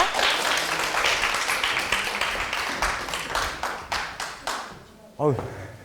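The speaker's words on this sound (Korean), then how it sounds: "그러면 박수로 교수님 강연 한번 들어볼까요? 박수 부탁드립니다." An audience of students at a Busan university science lecture claps to welcome the professor, a dense wash of applause that thins into scattered, separate claps before a brief voice at the end.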